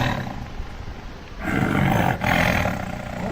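Tiger at the Pattaya tiger park in Thailand roaring twice, a loud, close, rough growling roar that swells, breaks off briefly and surges again.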